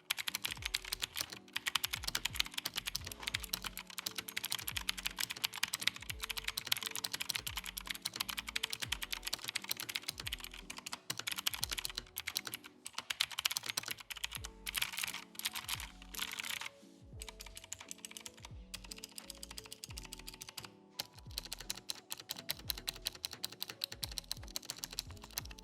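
Fast, continuous clicky typing on a Tecware Phantom TKL keyboard with blue switches, crisp close-up keystrokes in dense rapid runs with brief pauses.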